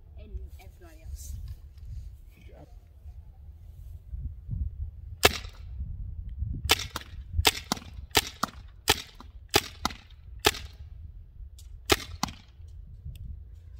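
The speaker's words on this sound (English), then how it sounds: "We'll keep shooting until it doesn't shoot anymore." A Byrna Mission 4 launcher powered by an 88g CO2 cartridge fires a series of about a dozen sharp, snapping shots, irregularly spaced and close, over a low rumbling outdoor background.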